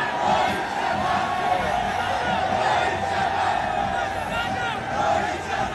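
Cricket fans celebrating India's T20 World Cup win over South Africa on the streets in Pune, a dense, loud crowd roar of cheers and shouted chants held steady throughout.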